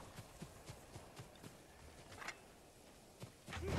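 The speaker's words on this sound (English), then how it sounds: "Just getting off my horse in the wrong way." Horse hooves in the video game Ghost of Tsushima clip-clop in a quick, faint, steady walking rhythm, with a louder rustle near the end.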